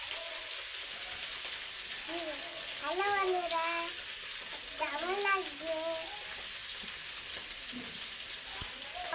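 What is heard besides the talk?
morola fish frying in oil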